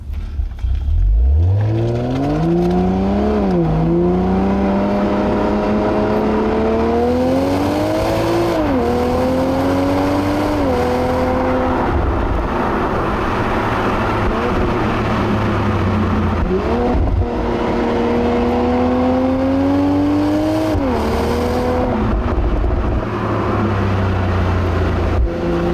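A Toyota GR Supra engine pulls strongly through several climbing gears, each rising howl broken by a quick shift before building again, loud from inside the car with a low drivetrain rumble beneath and no speech.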